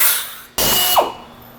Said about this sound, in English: rivet that in place as well with a 105 rivet with backup washer